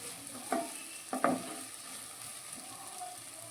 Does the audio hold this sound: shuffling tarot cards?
no